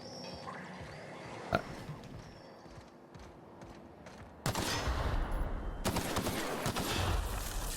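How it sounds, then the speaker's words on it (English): Plasma laser beams firing in The Outer Worlds: scattered shots at first, then a dense, loud barrage of crackling blasts in the second half. "It's shooting beams of plasma laser shit everywhere."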